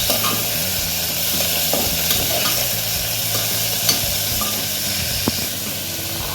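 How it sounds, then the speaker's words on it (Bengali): Tomato frying in butter in a pan for a mixed vegetable soup, with a steady close sizzle, spoon scraping and stirring throughout, and a few sharp clinks against the pan. "এরপর আমরা দেবো এর মধ্যে টমেটো, আবার আমি ভালো করে এটাকে ফ্রাই করে নেব বাটারের সাথে"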